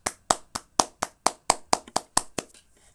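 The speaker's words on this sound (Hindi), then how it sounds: "पंडाल तालियों के शोर से गूंज उठा।" Hand claps ring out in a pavilion, about ten sharp, evenly spaced claps at a brisk steady rhythm, close and crisp, trailing off near the end.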